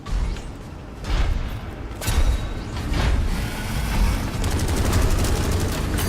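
Gunfire in the video game Battle Chasers: Nightwar, several loud bursts and a rapid rattling fusillade near the end, with mechanical clanks between shots.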